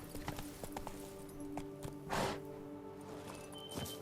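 Horse hooves clip-clop steadily in The Witcher 3, a brisk, close rhythmic trot under a low ambient hum, with a brief louder rustle midway and no speech.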